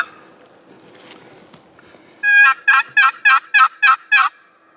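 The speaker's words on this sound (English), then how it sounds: "He just gobbled." A wild turkey gobbles at a turkey hunting camp, a loud, close run of seven rapid throaty bursts after a quieter stretch of rustling and faint movement.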